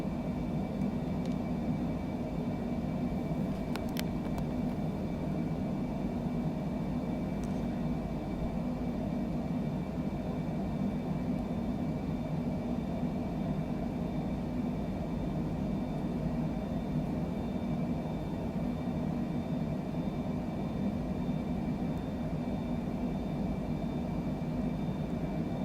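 Airplane engine climbing out in Microsoft Flight Simulator: a steady, loud, droning engine roar with a constant low rumble and faint high whine, unbroken throughout.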